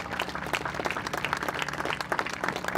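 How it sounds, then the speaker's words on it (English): A crowd claps steadily and densely for the officials at a girls' varsity high school soccer playoff, a sustained wash of applause in a large venue with no pauses. "giving them a round of applause for these outstanding officials"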